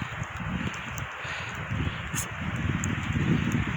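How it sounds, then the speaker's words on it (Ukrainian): Steady gusting wind rushes and rustles through a forest with patches of snow in winter, a broad continuous noise with no voices. "сильний вітер"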